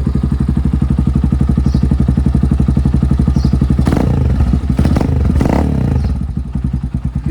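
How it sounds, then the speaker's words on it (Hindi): A Tekken 250 motorcycle engine idles at about 1000 RPM with a loud, close, rapid and even thumping beat, broken midway by a few sharp clattering knocks before the rhythm softens slightly toward the end. "अब ज़रा बाइक स्टार्ट करके ना मैं आपको आइडल पे इसकी आवाज़ सुनाता हूँ"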